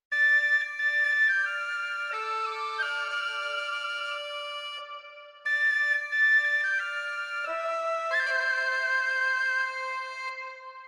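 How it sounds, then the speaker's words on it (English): Celtic fantasy-style pipes and a whistle playing in harmony, sustained layered melodic notes in two phrases with call-and-response, clear and alone. "These pipes here play in harmony with the whistle and make some response here."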